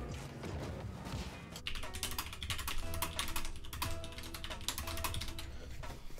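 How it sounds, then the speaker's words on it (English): Rapid keyboard typing clatters steadily at close range for most of the stretch, dense overlapping key clicks with a brief quieter start, under game background sound. "Sorry about this typing."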